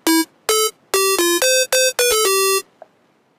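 Sylenth1 software synthesizer playing a lead patch: a bright, harmonically rich synth melody of short separate notes followed by one longer held note, loud and close, with a faint blip after it ends and no voices.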